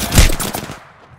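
Rapid bursts of gunfire from the Apex Legends video game, loud and close, crackle hard at first and then trail off into a quieter tail.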